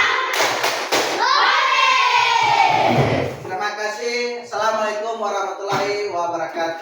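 Children clap in a classroom clapping game, a few sharp hand claps up front followed by loud group chanting voices that rise, dip, and come back in short bursts.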